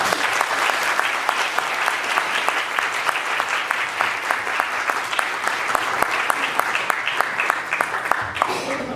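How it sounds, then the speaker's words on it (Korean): A lecture audience at KAIST applauds to welcome a professor, dense sustained clapping filling the hall for several seconds before tapering off near the end. "박수로 환영해 주시죠"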